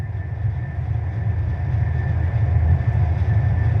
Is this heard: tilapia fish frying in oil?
no